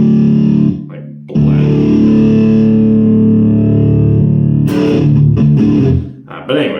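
A Dean 30th Anniversary ML electric guitar is played with the pickups blended in the middle position, giving loud, close, distorted sustained chords with brief breaks and a few short stabs near the end.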